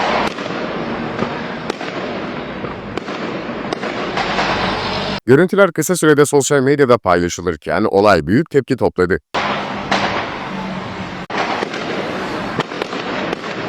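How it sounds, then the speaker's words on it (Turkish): Loud, continuous fireworks crackle and boom outdoors at a wedding in Şanlıurfa, Turkey, alongside gunfire into the air, with a stretch of talking in the middle before the bursts resume. "hem havaya ateş açtı hem de havai fişek patlattı"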